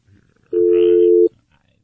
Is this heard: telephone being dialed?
yes